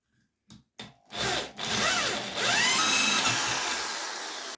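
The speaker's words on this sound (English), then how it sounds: "And then we go with the drill." Hole saw on a drill cutting a saddle joint into a log, with a few short bursts, then a sustained whining cut that dips and rises as the drill spins up, nearby and loud.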